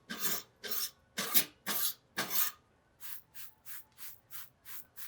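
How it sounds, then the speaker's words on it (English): A stiff brush scrubs across steak grill grates in a run of five firm, rasping strokes, then seven lighter, quicker ones, close and steady with no talking. "Clean our grill grates off."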